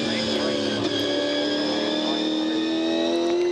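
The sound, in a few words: V8 Supercar race cars racing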